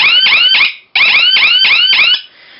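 Siren of a multi-program laser security system sounding when the beam is breached, a loud electronic alarm of rapid rising warbling sweeps in two bursts with a brief gap between, cutting off abruptly at the end.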